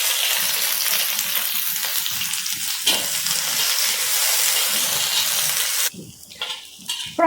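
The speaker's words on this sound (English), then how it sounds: "Add oil to the same wok and fry the onions." Onions fry in hot oil in a wok, giving a loud, steady sizzle that fills most of the stretch before cutting off abruptly near the end, leaving quieter scattered stirring sounds.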